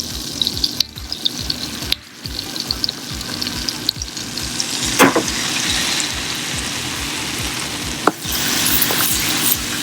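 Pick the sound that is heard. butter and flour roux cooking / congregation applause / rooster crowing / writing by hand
butter and flour roux cooking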